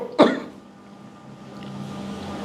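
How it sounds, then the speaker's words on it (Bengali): A man gives a single sharp, close cough, followed by quiet room tone. "আসলে ভাই কাশিটা উঠে।"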